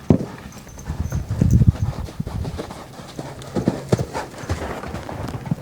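Hooves of an Arabian stallion clip-clop steadily as he runs past close by in a pen, a continuous rhythmic drumming that swells in the middle and carries on at moderate loudness throughout.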